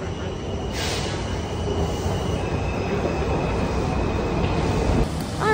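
A Metro train in Silver Spring, Maryland rumbles past close by, wheels clattering and squealing on the rails in a loud, continuous rush with a high screech toward the end.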